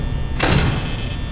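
A door slams shut in the Five Nights at Freddy's horror video game, a single loud, abrupt metallic closing sound with a brief reverberant tail over a low steady background hum.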